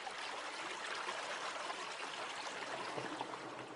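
A small river near its source in a valley, steady broadband rushing and trickling of water flowing continuously at close range, with no voices.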